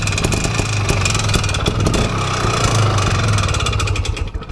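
An IZh motorcycle engine idles close by, with a steady, loud, rhythmic chugging and no talk.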